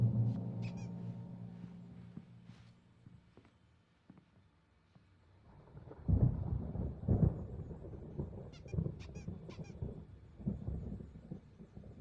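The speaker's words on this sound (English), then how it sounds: "There's a storm coming. Oh, what a storm." Rumbling thunder rolls through a stormy night scene in the video game Alan Wake Remastered, quiet at first, then building into loud, deep crashes around the middle with lingering low rumble and no talk.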